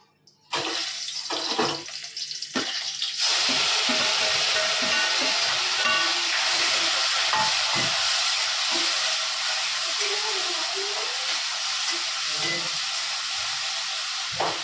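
Tomatoes with cumin and dried red chilli hit a hot pan and break into a loud, steady sizzle that hisses on without pause after a few soft clatters at the start.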